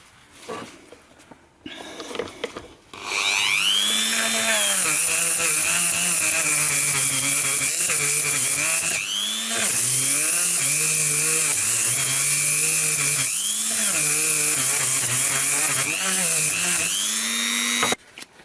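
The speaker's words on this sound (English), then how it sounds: "the easiest way to do the inside is with a Dremel." A high-pitched Dremel rotary tool whines steadily for about fifteen seconds after a short quiet start, its pitch dipping briefly several times as it grinds the inside of a Motobécane AV72 moped engine part.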